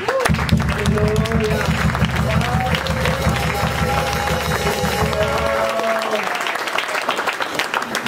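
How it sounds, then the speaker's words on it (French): A church congregation claps and cheers together in a steady, loud wave of applause, with voices mixed in and a sustained musical tone underneath that fades partway through. "Acclamons pour Dieu."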